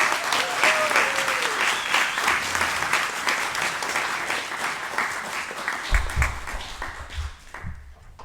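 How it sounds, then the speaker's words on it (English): A symposium audience at the University of Ottawa applauds with sustained, dense clapping. A voice briefly sounds over it early on, and near the end the clapping thins and fades as a few low thumps come through. "je vous invite vraiment à applaudir Biba Tinga."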